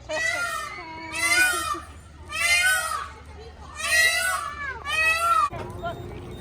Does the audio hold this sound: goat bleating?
yes